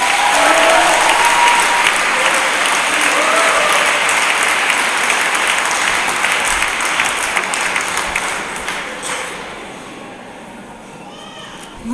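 A graduation audience at a school gown ceremony claps steadily and loudly, a thick sustained burst of applause lasting around nine seconds before tapering off, with faint voices near the end.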